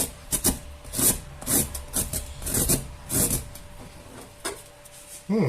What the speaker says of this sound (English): I'm going to grate it and see what it's like.